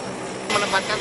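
A military Hercules transport plane on standby at Banyuwangi Airport in Indonesia gives off a steady engine roar that swells into louder, broader rushing, with a voice speaking over it.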